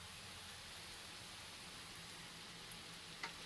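Steady rain falls in Mindanao after a few hours of heat, a dense, even hiss with a few brief drip-like ticks near the end, and no voices.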